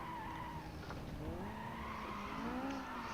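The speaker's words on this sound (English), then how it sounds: "I just love that engine sound." Car engine in a racing video game, a sustained revving drone with rising and falling pitch and tire skid squeal running throughout at moderate, even volume, no voices.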